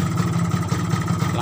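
Yamaha RX-King two-stroke motorcycle idling on its own without throttle, a close, steady puttering engine note with a rapid uneven pulse, while someone talks over it.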